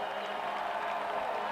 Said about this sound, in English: And the crowd on their feet. This play's starting to get loud.